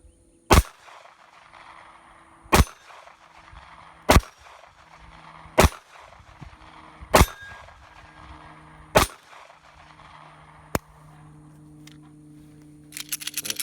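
A Ruger LCP custom .380 handgun fires at steel circle plates: six sharp, loud shots spaced a couple of seconds apart, each with a short metallic ring, then a faint extra click and rising rustle at the end.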